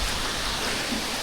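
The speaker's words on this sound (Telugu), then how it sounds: "భయంకరంగా వాన వస్తుంది" Heavy rain falling on a rainy day in Pondicherry, a steady, dense hiss of drops that holds evenly through the moment with no talking.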